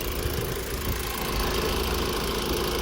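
A Honda CR-V engine idles steadily up close, a continuous low rumble with a faint knocking pulse and no voices.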